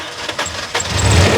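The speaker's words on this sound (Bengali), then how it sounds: "এবং তেলে স্টার্ট, গ্যাসে যাবে ডাইরেক্ট।" A used Toyota Super GL car engine cranks and catches on petrol, rising from short starter bursts into a loud, steady running rumble, close by with no talk.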